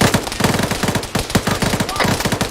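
Rapid automatic gunfire in the military game ArmA rattles in several tight, close bursts of clipped shots, each burst separated by only a brief pause.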